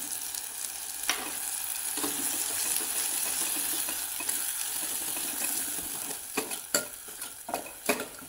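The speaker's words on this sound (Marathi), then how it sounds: "तेल सुटेपर्यंत असं हलवत राहायचं।" Black masala amti curry cooking in oil in a pan is stirred, giving a soft continuous sizzle with occasional spoon knocks, and a burst of sharper scraping clatters near the end.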